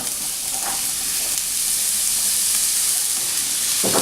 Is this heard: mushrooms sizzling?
yes